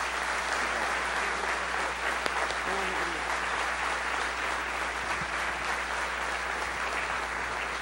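A church congregation at a convention fills a large hall with steady, sustained applause that stays dense and even throughout, with a faint crowd wash beneath.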